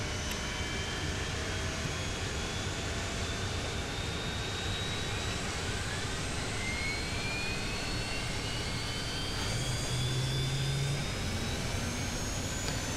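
Left jet engine of an Aerobask Eclipse spooling up in a flight simulator: a continuous loud turbine roar with slowly rising whining tones, layered over the already running right engine, with no voices.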